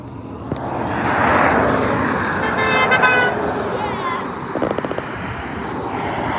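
An 18-wheeler truck sounds its air horn in short bursts near the road, over traffic noise and engine roar while people talk nearby.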